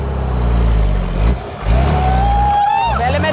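The engine of a bus that had been buried for five months, shifted into reverse, running loud and close with a rising whine and a couple of dips in level.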